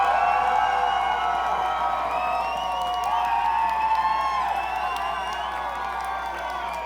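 A large crowd at a Big Buck Hunter World Championship event cheers and whoops continuously, loud and sustained, with applause mixed into the roar, fading slightly toward the end.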